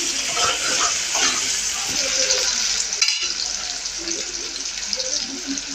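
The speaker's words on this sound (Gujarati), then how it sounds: "હવે તેમાં મરચાં, ડુંગળી એકદમ પાકવા દેવાનું છે ને" Chillies and onion fry in hot oil with a steady, dense sizzle that runs throughout, broken by soft stirring scrapes and a brief gap near the middle.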